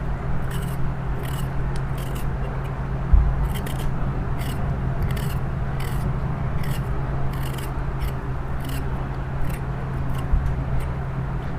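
A potato being peeled with a knife in a home kitchen, a steady close scraping and rasping that keeps going with small repeated strokes, over a constant low hum.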